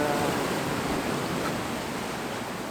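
Sea waves wash and break against rocks on the Madeira coast, a steady broadband roar of surf close by and fairly loud, continuous throughout with no talk.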